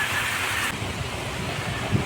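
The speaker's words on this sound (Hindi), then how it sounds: "नेपाल में बारिश हो रही, बढ़िया हो रही है।" Rain pours down in Mahendranagar, Kanchanpur, Nepal, a dense, steady hiss of falling water with gusts of wind and a faint low rumble, with no voices.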